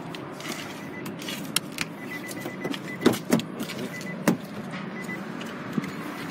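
Electric windows whir on a Nissan Leaf 80kW Acenta hatchback, faint motor hums broken by soft clicks and a couple of brief thumps, all quiet and close inside the car.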